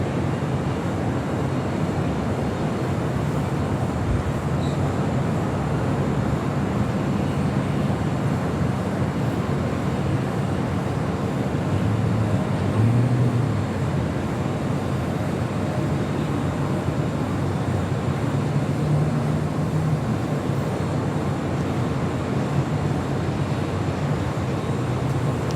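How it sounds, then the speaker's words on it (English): A KLM Boeing 787-10 Dreamliner departs LAX from runway 24 left, a steady low jet roar rumbling continuously from a distance with no talk over it. "24 left is KLM Flight 602 heading back to Amsterdam with the 787-10 Dreamliner heads on over"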